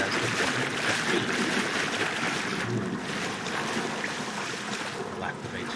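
In a Titanic-themed video game map, water rushes free as a steady, dense roar. The loud, close wash barely varies over its length.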